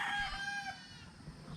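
Cockerel crowing at a gamefowl breeding range, a single loud, close crow with strong harmonics that fades into low rustling ambience.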